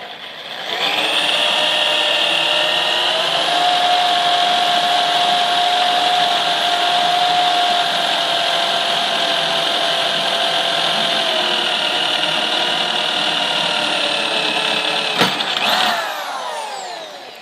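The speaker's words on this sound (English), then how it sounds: "I got the one hole drilled." A power drill boring a hole to mount a DeWalt DWX724 saw stand handle, a loud steady whine held for about fifteen seconds before winding down, close and without talk.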